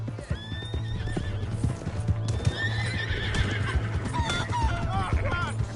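Horse in the video game Red Dead Redemption 2 gallops with a steady clip-clop of hooves and lets out shrill whinnies, a loud continuous rhythm with some speech and game noise mixed in.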